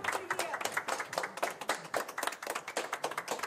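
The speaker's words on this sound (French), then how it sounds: "Et s'ils l'applaudissent, c'est que tous sont convaincus que les charges qui pèsent contre Yuri Dmitriev ne reposent sur rien." A small group of supporters claps steadily in a courthouse corridor in Russia, producing quick, dense, mid-volume applause that continues without pause.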